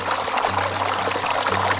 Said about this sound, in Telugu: వాటర్ భలే ఫ్లో అవుతూ ఉన్నాయి అన్నమాట